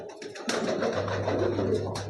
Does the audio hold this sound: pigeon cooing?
yes